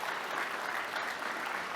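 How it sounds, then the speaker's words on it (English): Conference audience at a live mortgage-industry event applauds, a short, even burst of dense clapping from a sizable crowd at moderate volume, with no voices rising above it. "Round of applause for free credit reports"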